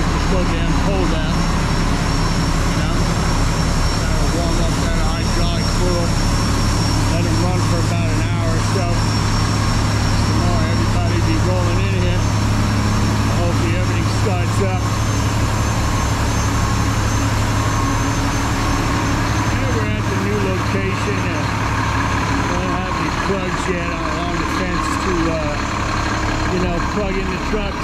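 Several front loader garbage trucks idle in cold weather at a garage, a loud, continuous diesel rumble and hum that holds steady throughout, with a person talking over it.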